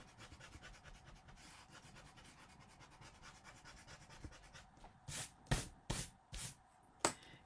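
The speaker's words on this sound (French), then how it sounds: "je vais gommer mes petits traits que je n'ai pas besoin" Pencil eraser rubbing out small guide lines on a paper drawing: a quiet, fast run of fine scrubbing strokes up close, ending in a few louder, separate brushing sweeps.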